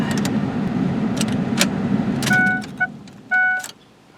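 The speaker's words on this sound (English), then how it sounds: "let's turn off the ignition" A Ford pickup's idling engine cuts off, followed by a few sharp clicks and key jingles and then two clear, near warning chimes in a quiet cab.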